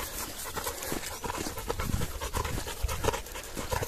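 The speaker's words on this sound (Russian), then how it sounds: "А здесь собака должна быть, помню." An American bulldog pants rapidly and rhythmically nearby at night, a close series of quick breathy huffs, with no one speaking.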